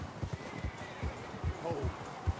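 A horse in the video game Red Dead Redemption 2 is hitched, its hooves clopping in an irregular rhythm at close range, with a brief neigh partway through and a low voice underneath.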